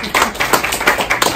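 A small group claps for the winner of a 24-hour carp fishing competition, a brief burst of irregular close hand claps with faint background voices.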